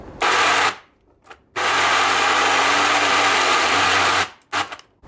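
A toy model engine running on oil at about 10,000 RPM buzzes in loud, close bursts: a short run, a pause, then a longer steady whine before it cuts out.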